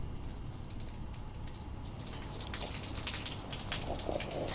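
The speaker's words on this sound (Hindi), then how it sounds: "पटना में दिख भी रहा है कि किस तरीके से बारिश हो रही है" Heavy rain pours steadily in Patna during a cyclonic storm with strong wind, a dense continuous hiss of rainfall with no voices.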